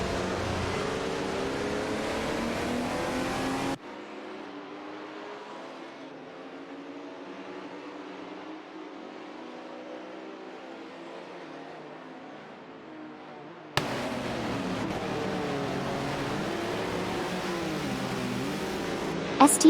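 Video game racing cars, a Renault Alpine 442B and a Porsche 936, whine past as engine tones rise and fall, loud at the start and end with a quieter, muffled stretch between, under a commentator's voice.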